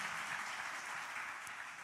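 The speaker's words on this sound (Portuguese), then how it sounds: "Se essas palmas é para Jesus, você pode aplaudir muito mais alto." A church congregation applauding during an evening worship service, a steady, moderately faint wash of clapping that holds evenly for the whole stretch.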